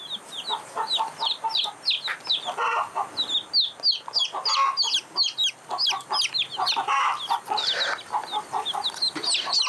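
A group of newly hatched chicks being given water with chili pepper peep constantly, with many high, rapid, overlapping chirps close by and no pauses, and no talk.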